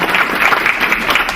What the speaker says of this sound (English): we should start off by first acknowledging that with a round of applause